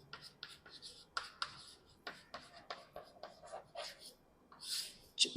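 Chalk scratches out Hindi example words on a classroom board in a run of short, rhythmic strokes with brief pauses, fairly faint and close, with no talk over it.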